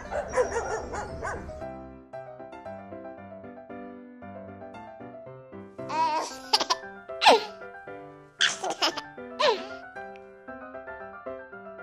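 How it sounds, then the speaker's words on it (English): Short dog barks and yips pop out over bright, bouncy children's music, several quick barks in clusters mid-clip. "Dog."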